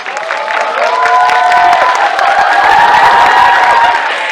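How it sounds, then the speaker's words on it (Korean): A cinema audience at a film screening Q&A claps and cheers for the director, with loud, sustained applause and excited shouts and whoops from a large crowd filling the room. "장항준 감독님께 박수 한번 치고"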